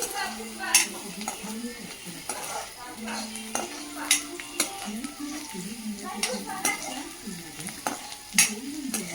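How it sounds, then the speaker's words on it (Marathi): Onions sizzle and fry in a pan for chicken fry while a spatula stirs them, giving repeated scraping and clinking strokes over a steady close hiss. "हा कांदा आपण चांगला लाल करून घेणार आहोत"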